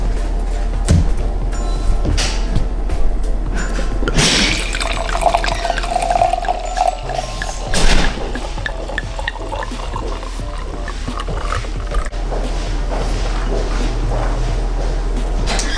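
Chardonnay wine pours into a glass in a long, close trickle and gurgle of liquid, with a few clinks and drips along the way and no talking.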